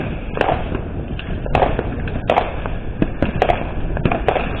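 Illegal Fourth of July fireworks set off outdoors by nearby people, several sharp cracks and thuds bursting irregularly over a constant dense rumble of distant explosions.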